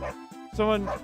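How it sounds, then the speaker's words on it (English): A dog barks in the background during a livestream: a few short yips and barks in quick succession, mixed with a person talking over them. "That was a dog was barking in the background,"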